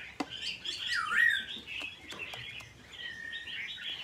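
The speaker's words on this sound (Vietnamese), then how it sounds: "Nhà em thì cứ khiếu rồi mi rồi là chòe hót réo rắt suốt các bác ạ." Caged hwamei and magpie robin songbirds singing, a steady stream of bright chirps, trills and whistles at moderate volume with no talking.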